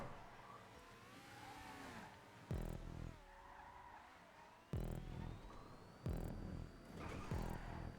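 A race car in GTA Online spins out on a curb, with engine roar and tire skids broken by sharp impact bursts.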